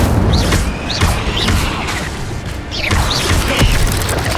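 Incendio fire spell casts in Hogwarts Legacy come as a run of sharp whooshing bursts with thuds and crashes, several quick magical flares spaced about half a second apart amid busy combat noise.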